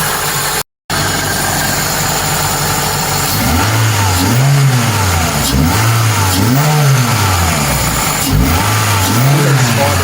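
A Toyota 2ZZ-GE 1.8-litre engine, fitted in a stripped shell, runs loud and close, settling at idle before climbing through three or four rising and falling revs with a steady mechanical hum between them.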